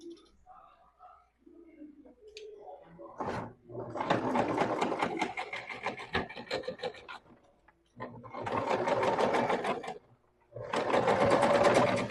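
A sewing machine stitches a half-centimetre seam along a crotch for a French seam finish, running in three long loud bursts separated by brief pauses, with quieter handling sounds before it starts.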